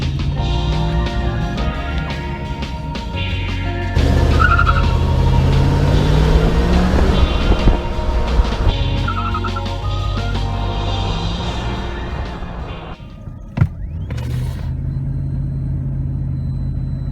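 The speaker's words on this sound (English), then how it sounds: "we're gonna probably stand on it a little bit, see if she'll do a little burnout" A Datsun Z car's engine revs hard in a tried burnout, a loud, close, sustained rumble that surges and falls with a sharp clunk near the end, with no talking.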